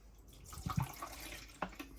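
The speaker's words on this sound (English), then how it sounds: "And let's put some water in our Keurig." Water is poured into the reservoir of a Keurig coffee maker, giving faint trickling and splashing with a few distinct plops and drips over quiet room noise.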